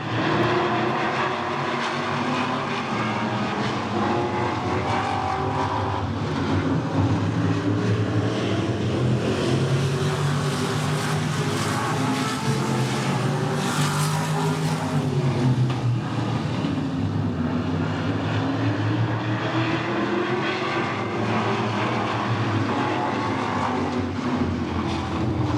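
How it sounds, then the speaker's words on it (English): Modified race cars circle a dirt oval to warm their tires, a steady loud engine roar that swells and fades continuously for the whole stretch, with no talk over it. "We're going to warm up the tires in the modified."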